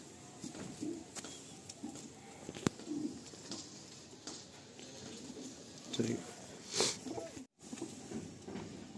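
Madrasi pigeons coo softly in low, repeated murmurs behind someone talking steadily over a faint, constant background hum.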